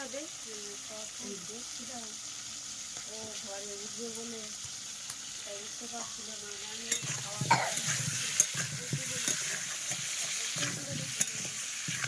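A home-killed chicken's egg sac and potatoes frying in a pan, heard first under people talking, then as a louder close sizzle with stirring clatter and knocks in the second half.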